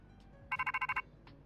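A short electronic phone ring in the Pokemon Legends Z-A video game, six rapid bright pulses in one quick burst, clear and close over quiet game background sound.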